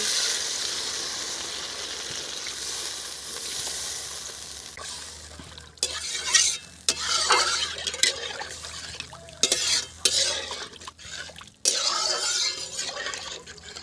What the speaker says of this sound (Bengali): কষা হয়ে গেছে এবারে আমি জল দিয়ে দিচ্ছি